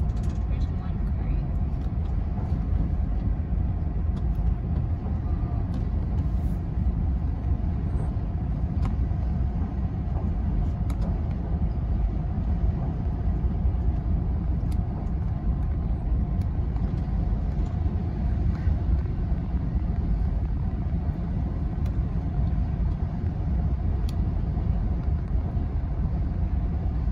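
A car passes on a mountain road near a summit, a steady low rumble of engine and tyres running throughout with a voice talking over it.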